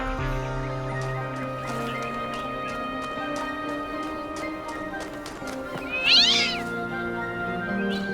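A cat meows once in the video game The Talos Principle 2, sharp and fairly loud, over a steady background of music and rhythmic tapping.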